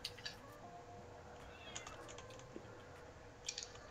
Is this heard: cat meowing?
yes